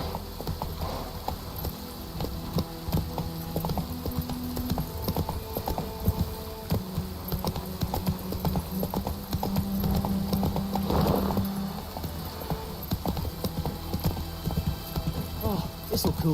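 Witcher video game horse Roach galloping, a steady rapid clip-clop of hooves that runs throughout, with game music and a voice speaking over it.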